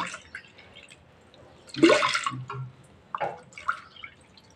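Water splashes and trickles into a pressure cooker holding moong dal in a couple of short bursts, with quieter pauses between, close by.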